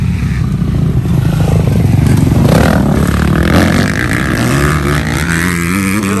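Motorcycles, including a 450cc bike, accelerate around a riding-course track, their engines roaring loud and steady throughout with rising and falling revs and rough clatter.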